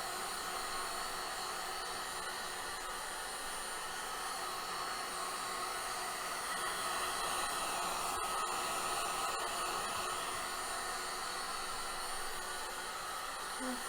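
A heat gun blowing steadily on Worbla thermoplastic during cosplay breastplate work, a constant close airy whoosh and hum with no talk over it.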